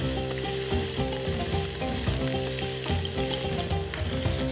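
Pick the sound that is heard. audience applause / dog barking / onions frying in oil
onions frying in oil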